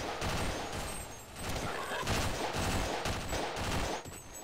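Enemies in Half-Life fire a dense, continuous burst of gunshots, loud and close, with rapid overlapping reports that ease briefly before resuming.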